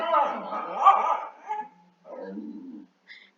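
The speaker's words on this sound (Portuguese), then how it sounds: "vocês devem estar ouvindo um cachorro" A dog barks and yips somewhere in a room during a literature lecture, a few short irregular bursts at moderate volume with brief gaps between them.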